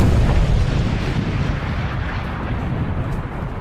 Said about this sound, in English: there was the noise of explosives and a sudden white light.